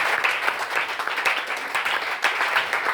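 A church congregation claps and applauds the Lord, a steady, dense wash of many hands clapping together at close range throughout, with no speech over it.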